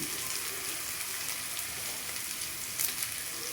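Curry leaves dropped into hot oil for a mutton fry give off a steady, faint hissing sizzle with soft crackles, and a brief sharper spatter near the end.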